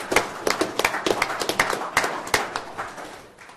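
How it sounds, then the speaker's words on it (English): At an Amarillo city council special meeting, a few people clap after a vote, the individual claps sharp and distinct in an uneven patter that tapers off toward the end. "Can we give everybody a round of applause here?"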